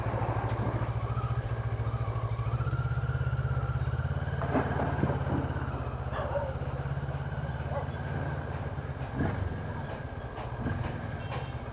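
A CF Moto MT650 motorcycle crawls along at very slow speed on rough Nepalese roads, its engine a low steady rumble close by, with rattles and knocks from the terrain.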